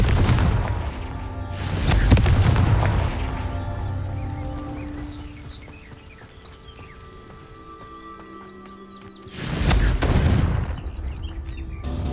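Two loud booming blasts from the Confringo spell in Hogwarts Legacy, one early and one near the end, separated by quieter ambient game sound with faint tonal chimes.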